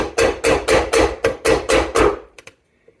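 Nails are hammered into a saddle's strainer plate: eight steady, loud, close metallic-wooden blows in even rhythm, then two lighter taps and a last faint knock before silence.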